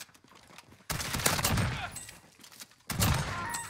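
Bursts of rapid automatic gunfire in Call of Duty Warzone, two loud close volleys of chattering shots, the first about two seconds long and the second starting shortly after, with quieter ambient game sound between them.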